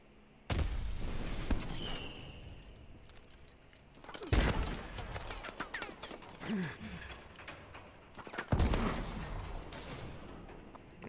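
Bursts of gunfire in Call of Duty: Advanced Warfare, three loud volleys with sharp onsets and crackling tails, spaced a few seconds apart, close and dominant.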